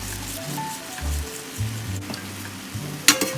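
Green beans with garlic, butter, cracked black pepper and crushed red pepper sizzle steadily in a pan as they are stirred, with soft scraping bumps and a brief sharper clatter near the end, no talking.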